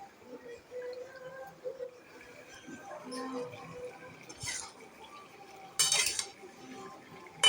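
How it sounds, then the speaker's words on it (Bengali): A spoon stirs a paneer and vegetable curry with water in a pan, giving quiet scraping and scattered metallic clinks against the pan, with a couple of sharper knocks near the end. "আর তরকারি আমার হয়ে এসছে ভালো করে নেড়ে চেড়ে দিলাম"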